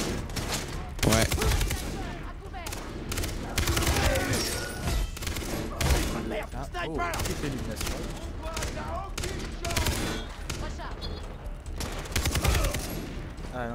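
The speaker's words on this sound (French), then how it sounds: "Ah, je crois qu'il y a un sniper." Rapid sniper and gunfire bursts in Far Cry 3 co-op play, repeated sharp cracks and thuds spread through the stretch, loud and busy, with players talking over the shooting.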